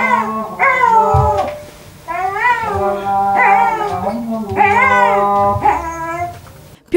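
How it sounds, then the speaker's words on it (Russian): A dog howls along with an imam's call to prayer, long rising and falling melodic wails repeated in several phrases, loud and close, blending with the chanting voice. "Вместе с ним пес Стив садится во дворе возле скамейки и начинает в прямом смысле слова напевать, не выть, в такт пению имама"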